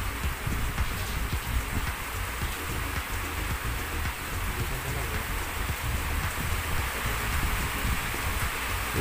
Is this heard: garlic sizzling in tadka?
no